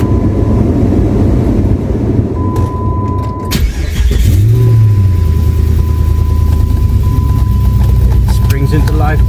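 A car engine cranks and springs into life quickly for a test drive after a harmonic balancer replacement, then settles into a loud, steady close idle with a rising whine, while someone speaks.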